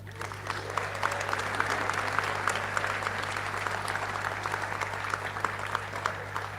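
A graduation audience claps continuously at a university ceremony, even rolling applause with a few sharper claps standing out, over a low steady electrical hum; no clear whooping stands out.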